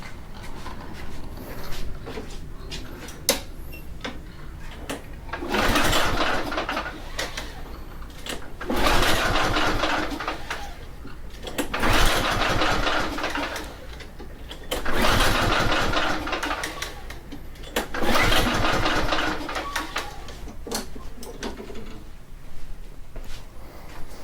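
A Lawn Boy lawn mower engine cranks in four repeated bursts, each sputtering briefly without catching, separated by quieter pauses with small handling noises.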